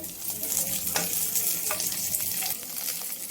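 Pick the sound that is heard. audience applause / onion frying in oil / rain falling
onion frying in oil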